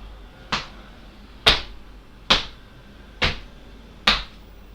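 Five evenly spaced foot stamps on a floor during an exercise workout, each a crisp, fairly loud impact with a short decay and a quiet room between.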